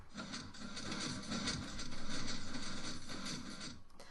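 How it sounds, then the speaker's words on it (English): A video game piston door mechanism fires in quick, rhythmic mechanical clunks and ticks, evenly repeated at moderate volume, with no voices over it. "So this piston here would fire 3 times, and in this version it only fires twice"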